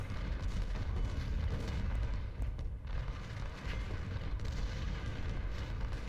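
Continuous artillery fire rumbles through a Civil War battle in Ultimate General: Civil War, a dense low booming bed of overlapping cannon shots with no clear gaps, steady and moderately distant.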